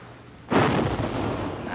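A single heavy cannon blast from a pirate ship bursts in after half a second of near silence, then spreads into a long, loud rumbling roar that fills the rest of the moment.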